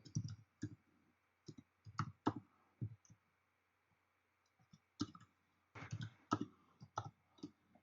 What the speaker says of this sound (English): Let's quickly type it.